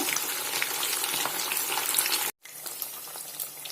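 Fish pieces fry in oil in a wide pan, a dense continuous sizzle that cuts out briefly near the end and then resumes, no talking.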